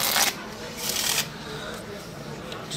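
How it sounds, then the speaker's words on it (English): Deck of playing cards being shuffled by hand in two quick riffling bursts, close and crisp, with quiet room tone between them. "We'll shuffle like this."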